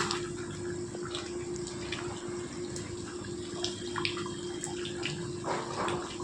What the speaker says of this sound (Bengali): জলটা দেওয়ার 10 মিনিট পর সুন্দর করে ফুটে এসছে। আবারও আমি নেড়ে চেড়ে এদিক ওদিক নেড়ে চেড়ে নিচ্ছি।